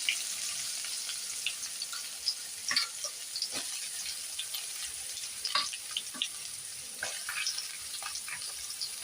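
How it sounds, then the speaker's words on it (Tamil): Onions fry in hot oil with whole cloves and cardamom for a mutton fry, a steady low sizzle with scattered light crackles and occasional stirring clatter, close but fairly quiet. "இப்போ வந்து தேவையான அளவுக்கு வெங்காயம் சேர்த்துப்போம்"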